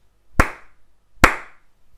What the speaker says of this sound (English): Clap to see if the green light on the voice mic moves.